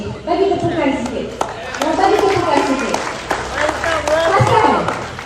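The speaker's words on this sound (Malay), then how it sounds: "Bagi tepukan sikit." An audience at a political rally in Bagan Datuk, Perak applauds, a crowd's clapping and murmur running under loud voices speaking and calling out throughout.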